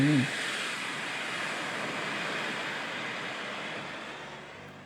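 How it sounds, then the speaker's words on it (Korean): Storm wind and waves on a lake as a sound effect: a steady, faint rushing wash of wind and surf that fades slightly toward the end. "갑자기 잠잠했던 호수에 먹구름이 드리워지더니 세찬 바람이 불며 파도가 무섭게 넘실대기 시작했거든"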